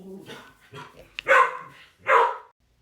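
Dog barks up close, two loud sharp barks following softer whimpers and yips, then silence.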